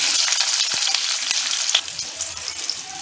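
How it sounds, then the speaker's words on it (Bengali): Large small-winter potatoes frying in hot oil with cumin, cinnamon, cardamom and cloves in a kadai give a loud, close crackling sizzle with a few sharp pops, easing slightly toward the end. "এবার আমি আলুটা এর মধ্যে দিয়ে দেবো"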